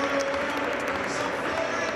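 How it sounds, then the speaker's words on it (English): A basketball crowd at a women's college game between DePaul and Butler applauds at a modest, distant level for an injured player walking off the court, while a commentator keeps talking over it. "some applause as she takes her time getting off the court."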